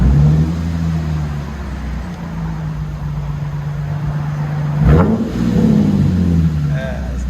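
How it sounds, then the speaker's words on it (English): A Lexus IS 250 with a 2.5L V6, all-wheel drive and a fully straight-piped exhaust idles with a deep, steady rumble, then gives a short throaty rev near the end, close and loud. "Let you guys hear on the Lexus IS 250 all-wheel drive,"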